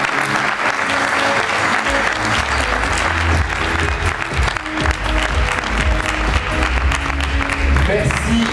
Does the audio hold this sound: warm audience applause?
yes